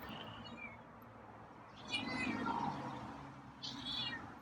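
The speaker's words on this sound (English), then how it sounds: "got a couple meows" Feral cat meowing softly and fairly close, with two or three short meows spaced apart against a quiet indoor background.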